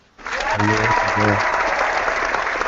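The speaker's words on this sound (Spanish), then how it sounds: "Un aplauso, por favor" Clapping for guests on a talk show, steady and fairly loud after a quick start, with a sustained voice-like tone beneath it early on.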